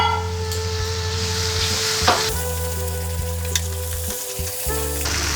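Pointed gourd with poppy seed paste, a little sugar and a splash of water sizzles loudly and steadily in a pan for Bengali potol posto, with occasional stirring scrapes and clinks and no speech.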